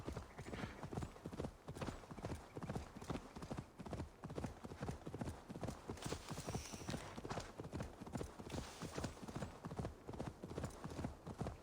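Horse hooves gallop in a rapid, steady clip-clop rhythm in Assassin's Creed Valhalla, a continuous fast beat throughout with no talk over it.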